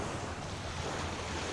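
Moderate ocean waves wash in at a beach in Playacar, Playa del Carmen: a steady, broad rush of surf mixed with wind buffeting the microphone, with no voices.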